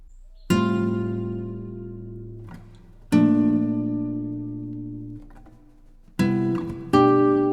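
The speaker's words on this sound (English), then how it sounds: "The Dan chord is really just a first inversion with an added ninth." Three strummed guitar chords, first inversions with an added ninth, each ringing out and slowly decaying before the next, the last struck twice in quick succession; rich, sustained and close.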